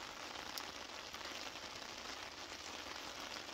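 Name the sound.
rain falling on a tarp at a camp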